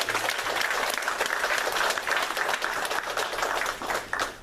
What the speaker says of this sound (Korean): 우리 구역 식구들 모두에게 격려가 되는 큰 박수 한번 보내드리겠습니다